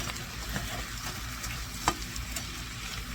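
Frozen spinach fries in a hot pan with a close, steady sizzle, light stirring scrapes and a few brief louder crackles, with no talking.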